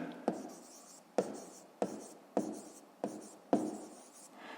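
Close pen or pencil strokes on paper while working a fifth-grade math exercise, six brisk scratching strokes in a steady rhythm with short pauses between, no talking.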